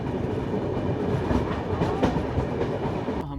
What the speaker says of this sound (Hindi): हमारी ट्रेन निकल चुकी है नागपुर से।